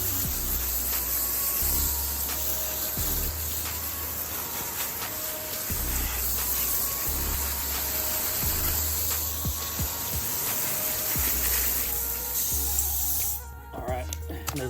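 A garden hose sprays water onto a mud-caked RC car, giving a continuous close hiss with occasional spatter and knocks as the stream shifts across the body.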